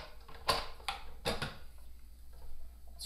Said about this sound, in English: you unscrew this little black piece right here